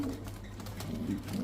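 A pedigree racing pigeon from a famous middle-distance breeder's bloodline coos softly and steadily at close range. Its low, rolling murmurs run without a break and no one speaks.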